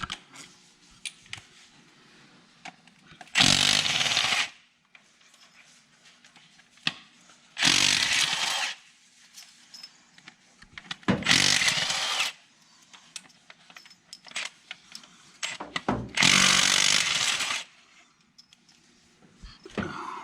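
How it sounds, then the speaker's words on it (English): Four loud bursts of a power tool, likely an impact driver, removing the inner row of head bolts from a 6.0 engine, each lasting about a second with quiet pauses between. "We're going to pull the inner row of head bolts."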